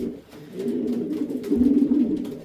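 Racing pigeons coo steadily inside a loft, a close, continuous murmur of overlapping low throaty calls that swells slightly louder toward the end.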